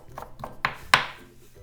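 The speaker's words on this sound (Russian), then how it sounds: "Нарезаем зелень мелко." Fresh dill or parsley is finely chopped with a knife in a home kitchen for soup: a short run of quick, crisp chops, the last two sharper and louder, with no talk.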